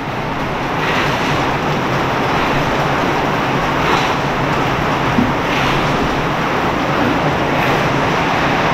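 Heavy rain suddenly pours down during an afternoon work break at a rural building site, a loud, dense, continuous hiss that holds steady throughout with no voices.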